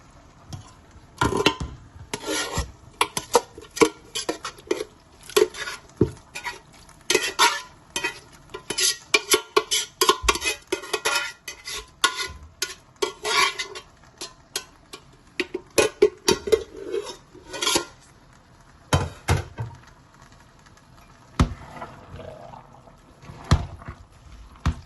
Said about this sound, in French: Je mélange bien.